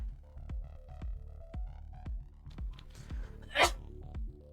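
One sharp, abrupt sneeze bursts out over a quiet, steady, rhythmic pulsing background, close and brief.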